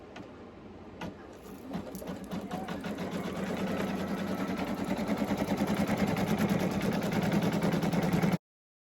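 An embroidery sewing machine stitching a sublimation patch runs steadily, its fast needle rhythm close and building slightly in loudness before stopping abruptly.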